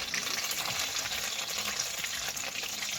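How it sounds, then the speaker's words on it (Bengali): Raw banana pieces frying in hot oil, a dense continuous sizzle with steady bubbling crackle, close and even throughout with no talking. "এবার এই তেলের মধ্যে আমি দিয়ে দেবো, দুটো করে ভেজে নেব"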